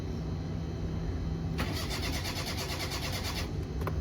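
A Suzuki Cuore engine cranks and catches after a stretch of quiet background, then a rapid rattling crank-and-fire runs for about two seconds before it settles, close and fairly loud with no talk over it.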